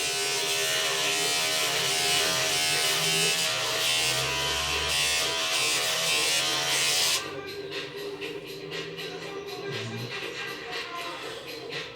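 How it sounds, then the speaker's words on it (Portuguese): An electric beard trimmer fitted with a number 1 comb guard buzzes steadily and close as it levels a beard, its pitch shifting and dropping partway through as it moves through the hair. "eu consegui comprar uma maquininha da Val e eu uso o Pente 1 para dar uma nivelada no tamanho da barba"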